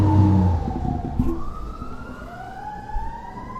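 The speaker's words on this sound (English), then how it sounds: "It's like there's just sirens the whole time." Emergency vehicle sirens wail outside, their tones sliding up and down at moderate distance over low background rumble.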